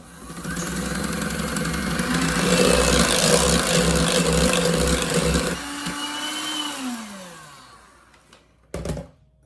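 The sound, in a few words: electric mixer mixing powdered sugar in at higher speed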